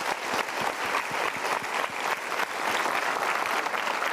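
A seminar audience claps in a brisk, dense round of applause, close and steady with individual hand claps distinct throughout.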